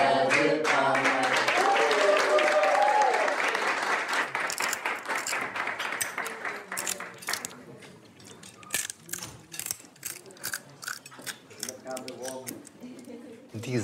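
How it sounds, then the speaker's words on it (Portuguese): A round of applause, dense clapping from a group that starts loud and gradually thins into scattered individual claps, with singing heard over the clapping at first. "Para um menino branco, uma salva de palmas."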